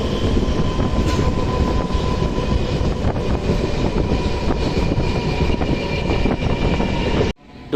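A MEMU passenger train on the Kacheguda to Raichur route rumbles along loudly and continuously, broadband roar with faint rhythmic clatter, cutting off abruptly near the end.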